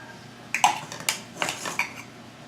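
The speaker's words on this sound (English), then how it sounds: "you just kind of use the back of your spoon to mash" A metal spoon clinks and scrapes against a dish while pressing garlic breadcrumb stuffing down between the leaves of a baked artichoke, several quick close taps with quiet gaps between them.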